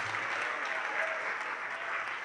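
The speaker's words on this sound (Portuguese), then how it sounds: "Vamos aplaudir ao Senhor Jesus por cada vida que está chegando" A church congregation applauds during a worship service, a steady, faint wash of many hands clapping heard from a distance with no break.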